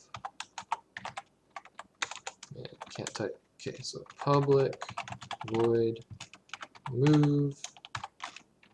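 Typing on a computer keyboard while coding a Unity script, with someone talking over the short bursts of key clicks between his phrases.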